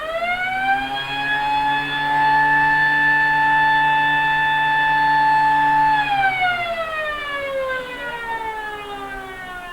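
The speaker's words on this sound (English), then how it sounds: "just as the siren went" A loud, steady wailing siren at an Australian rules football grand final holds a sustained tone, then slides downward in pitch as it winds down near the end, with no voices.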